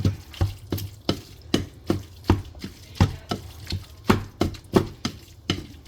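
Spatula or utensil chopping up ground beef as it cooks in a dish, with a steady series of sharp, close scraping taps about twice per second, alone with faint background hum.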